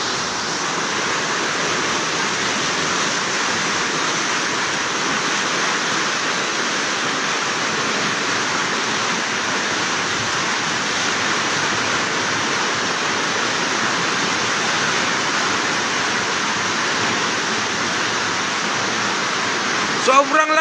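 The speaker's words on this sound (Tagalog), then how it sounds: "Sobrang lakas po ng baha." Violent floodwater rushing at Bonbon, Libon, Albay roars as a loud, continuous broadband wash, steady throughout with a brief jolt of handling noise at the end.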